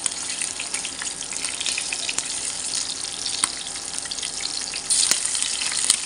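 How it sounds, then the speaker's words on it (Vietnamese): Meat frying in hot rendered pork fat in a pan, a steady dense sizzle with crackling spits and a few sharp pops, loud and close with no talking. "mình vừa thắng mỡ vừa chiên thịt nha cả nhà"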